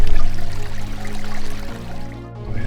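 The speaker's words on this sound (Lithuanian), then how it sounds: "Ir į ežerą įteka šaltiniai." Spring water flowing into a lake beside a nature trail at Gilius lake, a steady close trickling and pouring stream running continuously without pause.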